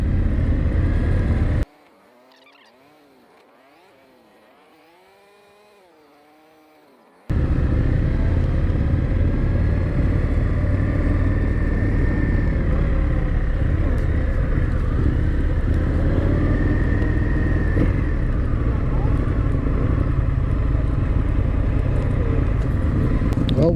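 A 2020 Indian FTR1200 motorcycle being ridden, its engine giving a steady loud rumble with wind roar, broken by a few seconds of near silence near the start, then continuing unbroken to the end.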